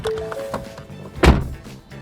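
A single solid, low thud of a Ford Freestyle car door shutting, close by, preceded by faint clicks and handling noise.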